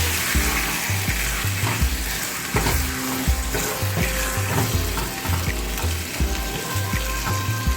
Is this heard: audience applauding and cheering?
no